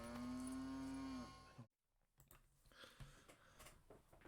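A cow lets out one long, loud, low moo lasting over a second, followed by quieter scattered rustling and shuffling noises.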